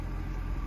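The V8 of a 2000 Jaguar XKR runs with a steady low rumble, close and continuous for a brief moment with no talking.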